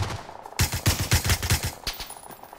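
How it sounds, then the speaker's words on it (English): Rapid bursts of gunfire in the PUBG battle royale shooter, played on PS5, with a dense volley of sharp, close shots lasting about a second and a half after a brief quiet start. "And we getting sniped too"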